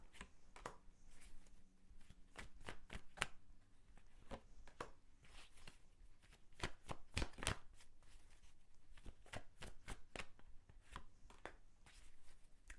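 Tarot cards being shuffled at close range, a steady run of crisp riffling snaps and flicks bunched in quick bursts, with no talking over them.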